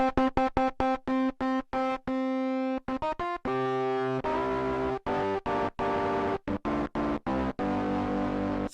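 An electric guitar through Eventide's CrushStation distortion app with sag turned high plays choppy repeated notes and chords, the tone breaking up and growing crunchier, loud with no talking.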